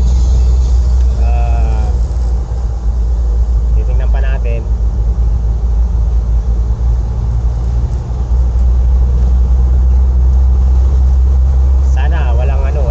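A second-hand car's engine idles with a steady low rumble, loud and close, while people talk briefly over it.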